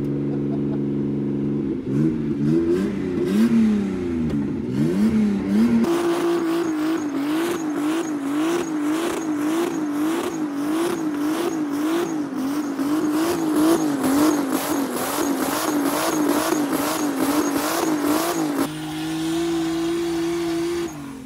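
A 450 hp BMW E36 drift car, seven years in the build, at a drift event: a loud engine climbs and wavers through revs, then settles into long, pulsing high-rev runs under tire squeal, close by and with no talk.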